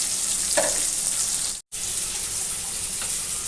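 Okra (ladies' fingers) frying in a pan, giving a continuous close hiss and sizzle with one brief faint sputter and a short cut to silence midway.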